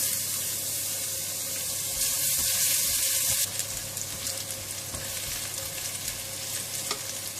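Three garlic cloves frying in about two tablespoons of oil in a pan for mee goreng mamak, a loud close hiss and sizzle that surges briefly and then settles into steady crackling, no voices.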